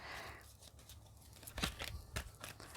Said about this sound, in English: Just giving the cards a bit of a shuffle.